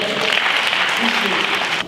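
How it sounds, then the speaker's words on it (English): Audience applause at a speaker event, a brief dense burst of many hands clapping close and loud, with a voice sounding faintly beneath it before it cuts off. "Give him a round of applause."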